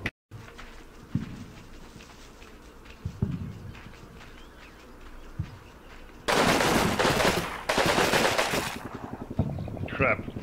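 Gunfire in the Combat Mission: Rome to Victory wargame, scattered distant shots early on, then dense bursts of machine-gun fire crackling loudly in the middle, with a voice talking over parts of it.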